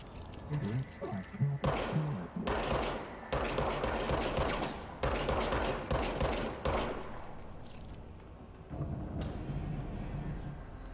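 Bursts of gunfire in the video game Control come in several rapid volleys separated by brief pauses. They are loud and close, with mechanical clatter between shots and quieter stretches toward the end.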